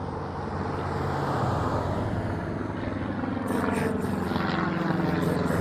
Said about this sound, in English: here goes this white plane again